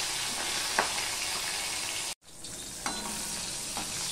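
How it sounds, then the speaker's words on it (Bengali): Batta fish fry in hot oil, two at a time, with a steady, close sizzle that drops out for a moment before resuming, with occasional soft stirring clicks. "আরও একটা মাছ আমি দিয়ে দিলাম, আমি 2টো করে মাছ দিয়েই ভাজবো।"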